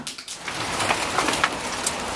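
Hail falls outdoors during a family's stay in the UK, a continuous patter of pellets striking surfaces with a few sharper nearby hits, no one speaking.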